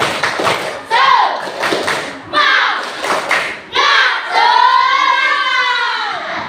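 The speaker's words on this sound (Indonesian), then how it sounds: "Tepuk semangat" A primary-school class does a rhythmic spirit clap at the start of an Islamic education lesson: sharp bursts of patterned clapping and thuds alternate with children's voices chanting along, loud and close.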